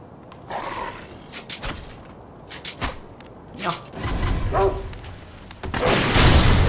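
Dogs bark in Sekiro: Shadows Die Twice, a few sharp, separate yelps spaced across the moment, followed by louder combat clatter near the end.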